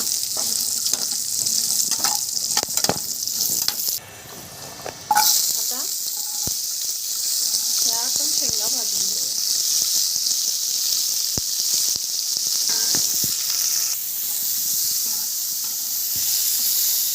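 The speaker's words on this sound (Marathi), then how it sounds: "सगळ्या भाज्या आपल्याला शॅलो फ्राय करून घ्यायच्या तेलात नुसतं परतवायचं" Vegetables shallow frying in oil give a steady hiss and sizzle broken by sharp clicks and scrapes of stirring. Brief voiced sounds appear around the middle, and a short quieter gap comes early on.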